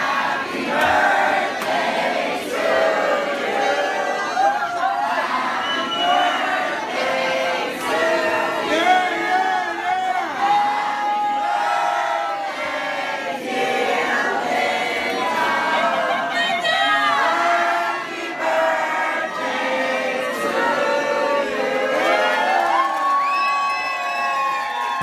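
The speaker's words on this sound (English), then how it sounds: "We're going to sing happy birthday to Linda nice and loud." Guests at a 50th birthday party at Casa Belvedere sing together loudly, a dense crowd of overlapping voices with cheers and whoops mixed in, sustained and close throughout.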